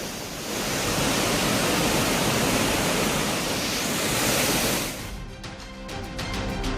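Courtallam waterfall swollen by flood after steady monsoon rain in the Western Ghats, a loud, dense roar of rushing water filling the whole clip, dipping briefly near the end before surging back.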